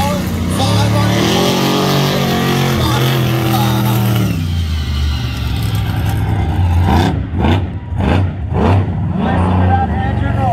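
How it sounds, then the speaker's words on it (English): A monster truck's 1500-horsepower methanol-injected engine roars loudly at a state fair show, its pitch climbing and falling as it revs, then settling into a deep rumble with sharp throttle bursts, voices underneath. "Listen to that engine roar!"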